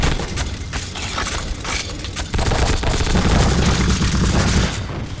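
Gunfire in the video game The Suffering forms a dense, continuous barrage of shots and booms, loud and sustained over a noisy game soundscape throughout.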